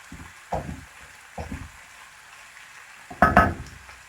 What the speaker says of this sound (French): on va les faire revenir à la poêle, donc avec l'oignon et l'ail